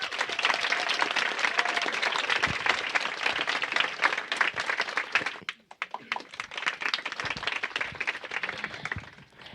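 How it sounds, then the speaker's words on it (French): An audience claps and applauds steadily at an evening event; the dense clapping briefly thins, then picks up again before tapering off, without speech over it. "on peut les applaudir également"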